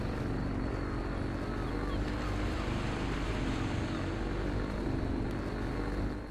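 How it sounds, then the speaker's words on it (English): A small green panga boat carries passengers out to a charter boat off a Costa Rica beach, its outboard motor droning loud and steady alongside constant wind and water rush. "Here you can see we're riding to the charter boat and the little green panga."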